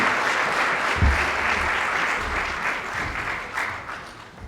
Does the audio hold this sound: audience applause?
yes